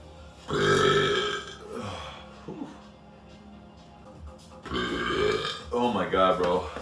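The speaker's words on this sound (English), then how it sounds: "That's a lot of burps." A man burps repeatedly on command, loud close belches in a couple of long bursts, with voices reacting between them.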